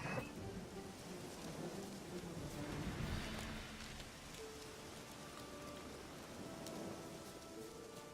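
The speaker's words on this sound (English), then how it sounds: "It is raining." Rain falls steadily in The Witcher 3: Wild Hunt, a continuous even hiss of drops on surfaces with low rumbling underneath, fairly quiet and without talk.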